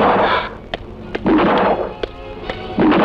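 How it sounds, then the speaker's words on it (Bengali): Gunfire in a Bangladeshi action film: several sharp, separate shots crack out about half a second apart, set against louder bursts of noisy, roaring movie sound. "শহরটা যে কি হইল যেখানে যাই খালি গুলির শব্দ"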